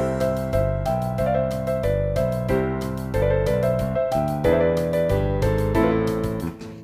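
Quena, the Andean notched flute, plays part A of the song Ojos Azules over a dense backing track with steady percussion hits, a lively repeating melody heard up close without talk.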